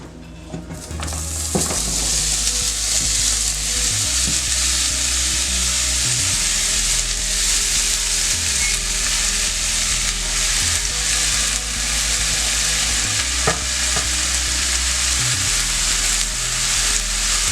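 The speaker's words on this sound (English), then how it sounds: "So we're just gonna let the mushrooms cook down a little bit before adding our broccoli." Mushrooms frying in a lightly oiled pan with olive oil, giving a loud, continuous close-up sizzle with occasional crackles and a low hum underneath, no voices.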